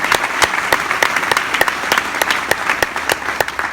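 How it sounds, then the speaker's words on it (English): Applause from an event audience for the organizers, a moderately sparse crowd with distinct loud individual claps close by over a softer background of clapping, steady throughout. "let's give them a round of applause one more time for putting this event together"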